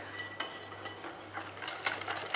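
Rava cake batter being stirred by hand in a bowl, giving soft scraping strokes with a few light clinks of the spoon against the vessel, close and quiet with no talking.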